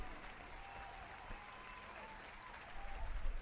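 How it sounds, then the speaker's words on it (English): Recorded applause sound effect left running on a livestream, a steady wash of crowd clapping that holds at an even level throughout and swells slightly near the end. "We just leave the applause going"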